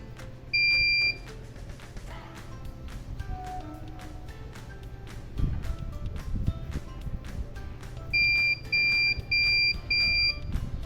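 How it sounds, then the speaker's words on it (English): One short electronic beep from a sanitary pad vending machine, then after a long pause four quick, evenly spaced beeps, loud and close, with faint clicking between. "you will hear a beep noise, which means the machine has entered the setting price menu"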